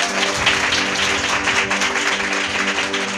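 A church congregation claps loudly and continuously, a dense wash of many hands with a steady sustained tone droning underneath.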